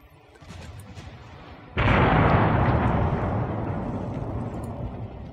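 Enemy secondary naval guns pound away in Ultimate Admiral Dreadnoughts, a sudden loud burst of gunfire and explosions that starts partway through and keeps rumbling densely to the end after a quieter stretch of battle noise.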